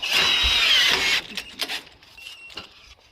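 A power drill drives screws into metal sheet roofing, a loud buzzing whir for about a second, then several shorter, fainter bursts of drilling and screw-driving clatter.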